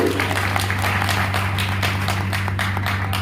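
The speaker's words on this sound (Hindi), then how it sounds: "मैं चाहूंगा सबसे पहले आप लोग एक बार अपने लिए जोरदार ताली बजाइए" Seminar audience in Sirathu, Kaushambi clapping loudly for themselves, a steady, dense patter of many hands sustained for several seconds over a constant low electrical hum.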